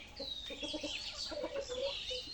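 Backyard hens and a young rooster, raised from chicks for eggs, cluck in a busy overlapping chorus of short, close calls that continue steadily throughout.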